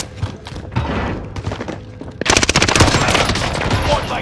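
Rapid automatic gunfire in Call of Duty: Modern Warfare bursts in loud, close volleys after a stretch of softer thuds and battle noise, with a voice in the mix.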